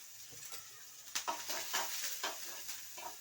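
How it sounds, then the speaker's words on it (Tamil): Curry leaves go into hot oil with green chilli and garlic for a dosa masala filling. The result is a faint steady sizzle with quick crackling spurts and no talking. "இப்போ கருவேப்பிலை போட்டுக்கிறேன்."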